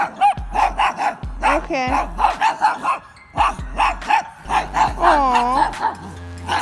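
A dog out on a walk barks in a quick run of sharp yips and woofs, close by and loud, with people talking over and between the barks.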